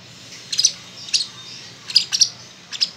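A small pet African bird chirps in short, high bursts, several quick tweets scattered over a few seconds, close by with a quiet background.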